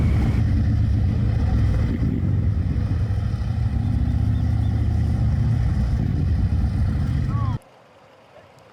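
Steady engine drone from a 2026 Harley-Davidson Heritage motorcycle on the move, a loud continuous low rumble with wind noise that holds for over seven seconds, then cuts abruptly to near silence.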